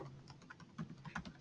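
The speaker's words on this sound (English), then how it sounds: "So let me type in a password" A password is typed on a computer keyboard, quick soft key clicks in an uneven run of about a dozen presses, close but faint, with no talking.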